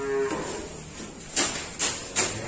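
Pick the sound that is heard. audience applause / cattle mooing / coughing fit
cattle mooing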